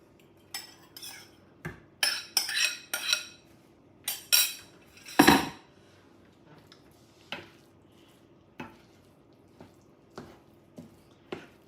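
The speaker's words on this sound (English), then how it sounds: "then I'm going to stir my broccoli into this mixture" Broccoli being gently stirred into a cheesy rice casserole mixture, a series of wet squelches and spoon clinks against the pot, clustered at first and then spaced out into occasional single taps, close and fairly quiet.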